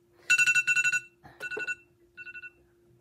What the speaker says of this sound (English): That's my alarm, y'all.